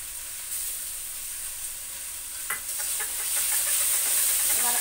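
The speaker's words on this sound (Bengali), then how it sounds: "এবার সুন্দর করে পাট শাকটা নাড়াচাড়া করে ভাজতে হবে।" Jute leaves frying in a pan with ginger, a steady hiss of sizzling oil that swells louder toward the end, broken by a few crackles and scrapes as the greens are stirred, with no voices.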